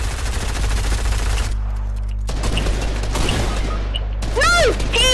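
Video game gunfire crackles in bursts through a firefight while players talk over it, with a break in the shooting before sharp rapid volleys return near the end.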